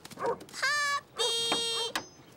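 A puppy gives a quick run of barks and high-pitched yips, close by and fairly faint, with short whiny notes between them.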